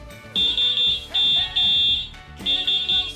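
Horn of an Avia 007 three-seater e-bike, giving loud, shrill, high electronic beeps in several bursts of rapid pulses with brief gaps between them, heard close over a low background.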